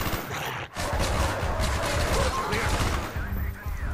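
Sustained, dense gunfire during a Call of Duty Black Ops combat scene on PC, rattling continuously and loudly over a busy battle background, with a brief dip near the start and no clear talk.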